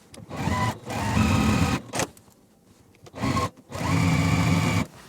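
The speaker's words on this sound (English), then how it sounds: "we're going to take this to our machine and just add these little A triangles" Sewing machine stitching small A triangles onto a beginner quilt block, running in two long bursts of steady rapid mechanical whirring separated by short pauses, close and fairly loud, with no talking.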